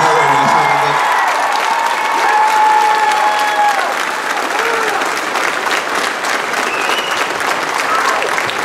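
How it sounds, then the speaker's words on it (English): Loud, sustained applause from a crowd at a demolition derby prize ceremony, dense clapping with a few cheers and voices mixed in, filling the whole stretch without a break. "Let's give a round of applause for this guy"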